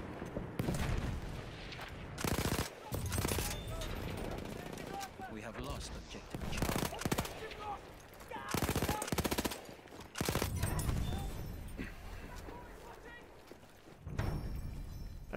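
An Automatico machine gun in the Battlefield 1 video game fires in repeated rapid bursts, loud and close, with short pauses between volleys; players talk over the gunfire.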